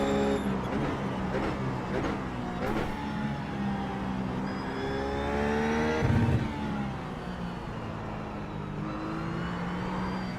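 RUF race car engine in iRacing at Mid-Ohio, revving steadily with rising and falling harmonic whine as the throttle is pushed hard, loud and continuous throughout with a brief surge near the middle.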